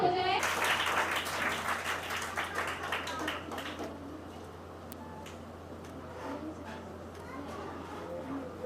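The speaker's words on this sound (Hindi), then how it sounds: "एक जोरदार ताली हो जाए।" Applause from the audience at an eighth-anniversary function of a service organisation, a burst of dense clapping that is loudest at first and then thins out into scattered claps over a low steady hum.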